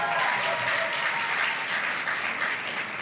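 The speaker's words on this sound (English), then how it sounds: "Another round of applause to our future governors" An audience applauds winners at a schools challenge announcement, a dense, even wash of clapping from a sizeable crowd heard at moderate distance for a few seconds.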